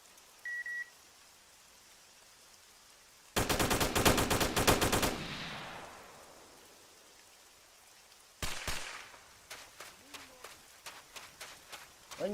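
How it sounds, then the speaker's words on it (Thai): MP7 submachine gun fire in the military game Arma 3: a dense rapid burst of shots, then after a pause a series of separate sharp reports, loud against quiet background ambience. "ไหนวะคนยิง MP7 อะ"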